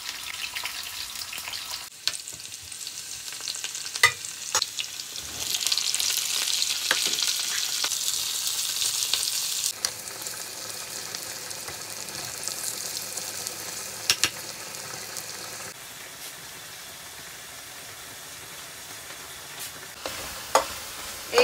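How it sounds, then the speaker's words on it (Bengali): Onions and garlic fry together in a pan for a prawn dopeyaja, giving a steady, loud sizzle with occasional sharp pops and crackles; no voices are heard. "তারপর পেঁয়াজ দিয়ে দিই।"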